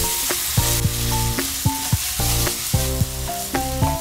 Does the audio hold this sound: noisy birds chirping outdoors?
no